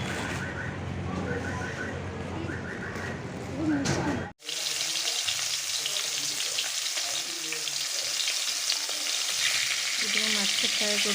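Fish frying in a pan gives a dense, close, crackling sizzle that holds steady for about seven seconds. A different rushing noise comes before it, and faint voices are heard in the background.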